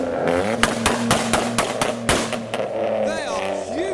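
A modified car with a straight-through exhaust rolls into a car show, its engine burbling with a run of sharp, loud exhaust pops and crackles, followed by a lighter engine note as it moves past, close by.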